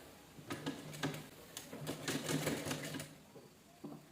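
A sewing machine stitches fabric in short bursts of rapid mechanical clatter, with brief pauses between runs, close and fairly quiet.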